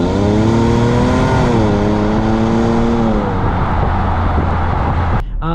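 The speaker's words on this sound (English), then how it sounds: "That transmission is actually pretty quick to shift here in the automatic mode." A 2020 Chevy Traverse Premier engine accelerates under automatic transmission, its rising drone dropping as a gear shift lands partway through, loud and steady near the cabin with no talk.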